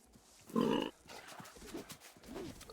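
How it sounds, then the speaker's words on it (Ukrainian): A deer in the video game Fera: The Sundered Tribes gives one short, loud, pig-like grunt, followed by quieter game ambience and faint voice-like murmurs. "що це олень має звук свині."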